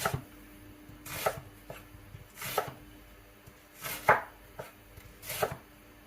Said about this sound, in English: we're going to dice up our onion.